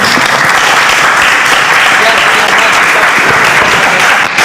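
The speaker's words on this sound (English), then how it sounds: "let's continue that round of applause" Loud, sustained clapping from an audience filling the room, continuous and even from start to finish.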